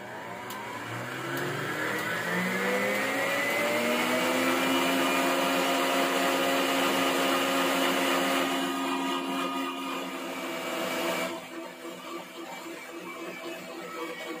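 An electric mixer whipping butter at a raised speed, a loud whirring motor whose pitch climbs and then holds steady before dropping off near the end, with no talk over it.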